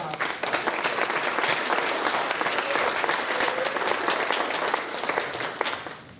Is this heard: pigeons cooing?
no